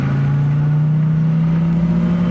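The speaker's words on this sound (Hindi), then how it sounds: "जैसे ही वो गाड़ी चलाने लगती है" A cartoon car's engine hums steadily at a constant low pitch as she begins to drive, a continuous close motor drone with no talk over it.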